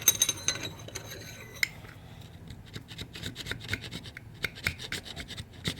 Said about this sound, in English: I'll just take this old chisel and pull the glue off and scrape the gibs.